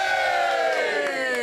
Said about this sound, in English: Let's get a bit of a cheer after 3.